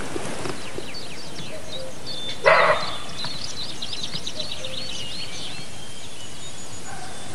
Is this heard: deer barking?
yes